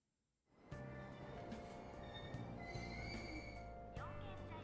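Subway train in a metro station in the video game Persona 5 Royal, rising in after a quiet start into a sustained rumble with squealing wheels and ringing metallic tones, close and fairly loud.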